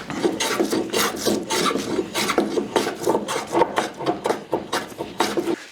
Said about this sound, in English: it's just a lot of elbow grease, a lot of carving now to get this all the way around